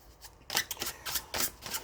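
Tarot cards being shuffled and pulled from the deck: a short run of crisp, papery riffling bursts, close and fairly quiet, with a brief pause before the handling starts.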